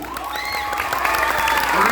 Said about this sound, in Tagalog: Palakpak para kini Uncle Ernesto!